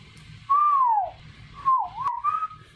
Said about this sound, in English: but if I whistle,